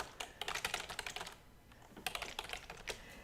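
Quiet bursts of computer keyboard typing, rapid clicking keystrokes in two runs separated by a short pause.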